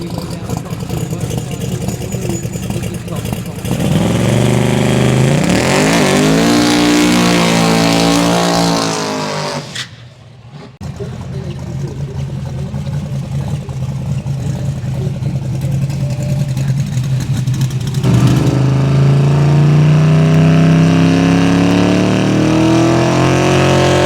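Twin-turbo Holden Torana drag race car accelerating hard down the track at a Summer Slam event, a loud roaring engine climbing through gear changes, a brief near-silent gap, then another sustained roar.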